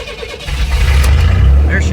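A 1983 Chevy S10 engine cranks and catches, rising into a low, rumbling idle that grows steadily louder over a couple of seconds, with a voice heard briefly over it.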